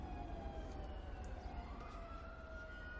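A fire engine siren in the video game GTA 5 wails steadily throughout, its rising and falling tones sweeping over a dense, constant rumble of traffic and game noise.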